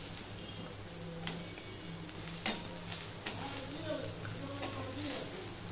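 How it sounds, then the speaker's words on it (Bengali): Cut potatoes sizzle steadily in hot salted oil in a pan, with a few clinks and scrapes of stirring throughout. "এগুলো আলুটা দিয়ে আমি একটুখানি ভেজে নেবো।"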